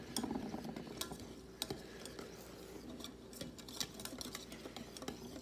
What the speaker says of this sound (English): just use your whisk to kind of go ahead and break some of those larger chunks up